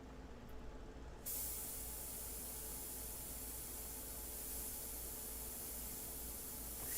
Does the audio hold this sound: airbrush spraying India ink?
yes